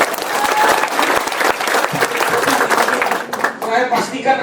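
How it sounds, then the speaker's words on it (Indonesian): A crowd of participants at a school event in Kupang breaks into applause, dense rapid clapping close and loud that thins out toward the end as a voice begins to talk over it. "tepuk tangan dulu"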